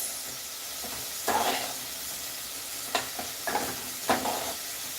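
Small omena fish fry in a pan, the sizzle a steady hiss broken by several sharp scraping stirs at irregular intervals, close and moderately loud, with no talk.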